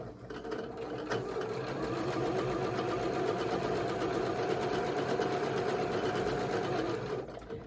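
A sewing machine stitches quilt block pieces together, its needle running in a steady, close, continuous mechanical whir for several seconds before stopping, with no talk over it.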